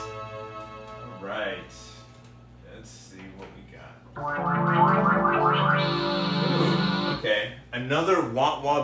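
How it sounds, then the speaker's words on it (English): Korg Poly 800 synthesizer playing a wah-wah bass patch, a low sweeping filtered tone that swells and fades in repeated pulses, loud and close after a quieter stretch of other synth sounds. "Another wah-wah bass sound."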